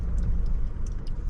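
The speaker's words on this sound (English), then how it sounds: "So we're just going to let this car through." A car rumbles steadily across the Fitzroy River bridge at Fitzroy Crossing, a loud, close low-pitched road and engine drone with faint ticking clicks over it.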